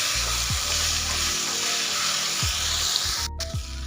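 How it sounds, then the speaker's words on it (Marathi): Spice masala for a dhaba-style drumstick curry frying in oil, a steady close sizzle with a low background hum and a few faint stirring sweeps. "जो आपण आता मसाला बनवून घेतलेला आहे ना ते असं त्याच्या तेलामध्ये टाकायचा आणि तेल सुटेपर्यंत आहे ना छान परतून घ्यायचा"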